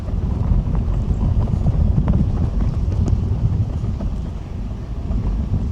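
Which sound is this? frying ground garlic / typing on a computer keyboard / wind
wind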